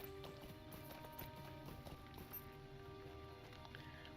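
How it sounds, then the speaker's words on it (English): A horse's hooves clip-clopping in a steady trot in The Lord of the Rings Online, faint beneath soft ambient music. "I'm gonna take the slow horse from here to the"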